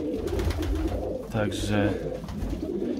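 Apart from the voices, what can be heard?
Budapest highflyer pigeons cooing in a pigeon loft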